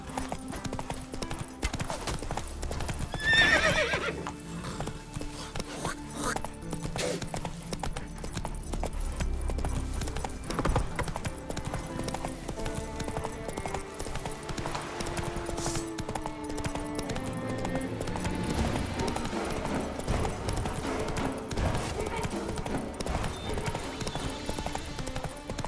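Roach, Geralt's horse in The Witcher 3, gallops with steady clip-clop hoofbeats under a full orchestral game score, with a brief whinny early on and no speech.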